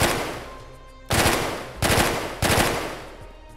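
A BCM carbine AR-15 rifle in ARMA 3 fires four loud, close bursts of rapid automatic gunfire, separated by short pauses with echoing tails.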